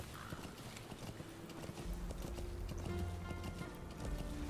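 Horse hooves clip-clop in a steady galloping rhythm with a brief neigh early on, set against game music and ambience in Metal Gear Solid 5.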